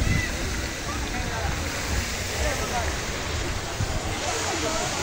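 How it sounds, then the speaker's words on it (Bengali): A park waterfall fountain in Safina Park, Rajshahi, rushes as a steady broadband wash of falling water that fills the whole clip at an even, fairly loud level. "এটা কত সুন্দর ঝর্ণা"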